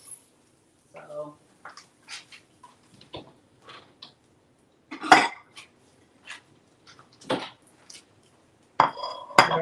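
Dishes and cutlery clink and tap in scattered bursts while food is plated in a home kitchen, quiet knocks and a few sharper metallic clinks spread across the stretch, with soft speech and a cough in between.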